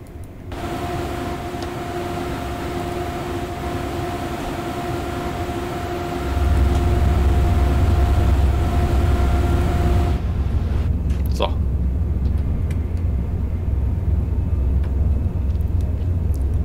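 Simulated ICE 1 high-speed train running with a sound mod in Train Sim World 3, a steady loud rumble with tonal hum that swells deeper partway through, then a brief clank or squeal over continuous running noise.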